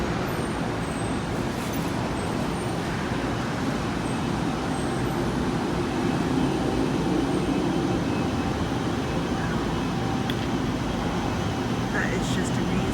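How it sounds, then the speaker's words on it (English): Seattle's historic red monorail train approaches from the north and passes, a steady low rumble and rolling roar filling the street, loud and continuous with traffic noise around it. "There's the monorail."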